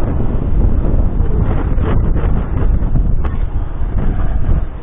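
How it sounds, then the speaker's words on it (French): Loud, continuous wind roaring and buffeting against the microphone while riding a motorcycle, a dense rumbling rush that never lets up. "Le bruit qu'on entend, c'est surtout le bruit du vent en fait."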